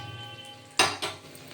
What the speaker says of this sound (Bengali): যতক্ষণ লাল না হবে ততক্ষণ আমাকে নেড়ে যেতেই হবে